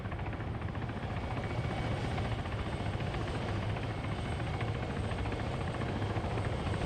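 A video game helicopter making a rooftop landing, its rotor and engine roar steady, loud and continuous throughout with no voices over it.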